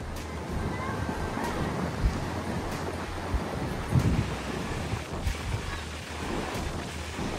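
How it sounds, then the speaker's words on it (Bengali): Strong, continuous wind at the Cox's Bazar seaside buffets the microphone as a steady roar, with surf rumbling underneath and a few brief gusty thumps. "কন্টিনিউ বাতাস হচ্ছে"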